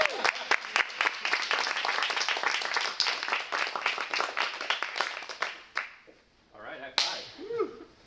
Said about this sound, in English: how about a round of applause for Keith?